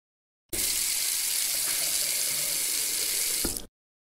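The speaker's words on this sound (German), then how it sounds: "Das war ein Wasserhahn." Water runs from a tap in a steady, close rushing stream for about three seconds, starting and stopping abruptly, with nothing else heard.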